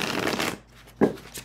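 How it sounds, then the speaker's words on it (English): Gaian tarot cards being shuffled face up, a half-second flurry of soft papery riffling followed by a pause and a brief second burst of card slaps, close and quiet. "You can shuffle them face up a little bit"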